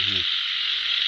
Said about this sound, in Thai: เดี๋ยวนี้เสียงกบเสียงเขียด